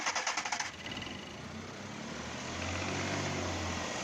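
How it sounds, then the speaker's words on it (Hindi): A Suzuki Bolan van with a morning starting problem cranks on its self-starter with rapid rhythmic chugs, catches, and settles into a steady idle with some throttle raised, close and clear. "तो उसके बाद सल्फ़ मार के आप इस गाड़ी को चेक करें।"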